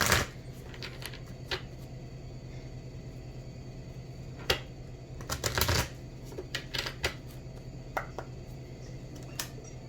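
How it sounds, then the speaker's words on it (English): Angel Romance oracle cards being shuffled by hand, soft close riffling and slapping bursts scattered across a quiet room, with a longer flurry midway and small taps throughout. "I'm going to pull a few Angel Romance cards."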